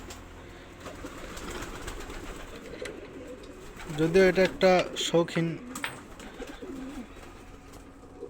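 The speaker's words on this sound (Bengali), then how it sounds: "এই যে আমার কবুতর, দেখেন আমি ঘরে আসছি, খাবারের জন্য কীভাবে ছটফট করতেছে।" Pigeons in a small home pigeon farm coo in a brief cluster of throaty calls, restless for food, while someone talks throughout over the birds.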